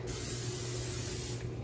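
Cooking spray hisses steadily onto a lasagna pan in a kitchen, one continuous close hiss of about a second and a half.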